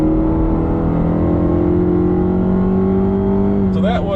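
A Nissan Rogue in normal mode accelerates hard, its engine drone held loud and steady with a rising tone throughout, captured from inside the cabin.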